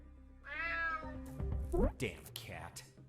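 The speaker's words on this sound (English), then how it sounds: "Damn cat." A cat in the video game UnMetal lets out a drawn-out meow, followed by game sounds and someone talking over it.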